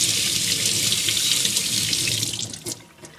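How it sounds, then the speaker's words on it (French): Tap water runs into a sink as a whole tomato is rinsed under it, a loud steady close splashing hiss that tapers off near the end. "avec notre tomate entière, on commence par la laver"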